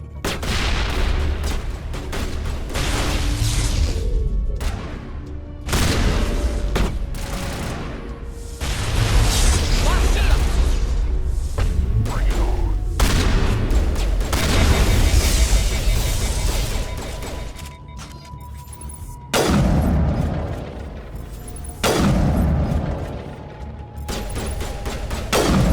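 Gunfire and explosions in a Mass Effect firefight, with rapid sustained shooting, heavy booms and mechanical clatter, loud and dense across the whole stretch with brief lulls between bursts.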